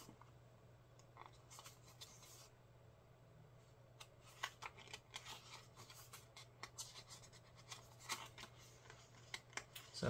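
Scissors cut through the packaging of a limited Pokemon edition K-pop album, giving a run of scratchy snips and rustles close up at a low level, with no talk.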